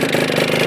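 A Gilera Pink Bullet motorcycle freshly built with a Mac 10 engine runs at a steady, loud idle-to-light rev, a continuous buzzy drone close by with no talking.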